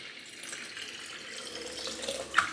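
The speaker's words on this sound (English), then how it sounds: "I need a water fill up" Tap water runs into a bottle as it fills, a quiet, steady rushing stream heard close by with a small splash near the end.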